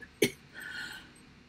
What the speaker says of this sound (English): why do I cough when I do that?